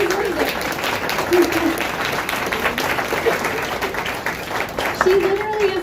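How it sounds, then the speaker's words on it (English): Audience at a delegate town hall breaks into sustained applause, a dense wash of clapping heard under a speaker's voice that continues talking over it. "Yeah, clap. She deserves it."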